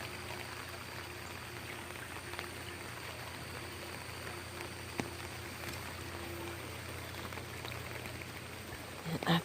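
Heavy floodwater rushes down a roadside ditch in Alabama during a downpour under a flash flood warning, a steady, even wash of running water that stays at one level throughout, with a brief knock near the end.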